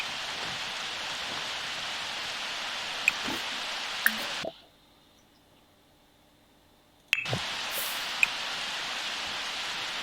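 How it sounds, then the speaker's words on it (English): Rain falls in the Sims 4 game, a soft, even hiss with a few louder drops, cutting out completely for a few seconds midway before the same steady patter resumes. "Raining again."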